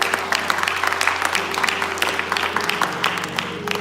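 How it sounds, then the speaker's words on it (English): A church congregation at a Bible study claps in praise, a dense burst of many hands applauding together, steady and moderately loud throughout, with a few voices faintly mixed in. "Somebody give God a hand clap of praise."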